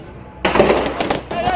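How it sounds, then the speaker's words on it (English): Rapid sharp bangs of live gunfire on the streets of Caracas during clashes between masked protesters and pro-government troops, a burst of several close cracks in quick succession after a brief quiet start, with crowd noise underneath. "Live fire on the streets of Caracas."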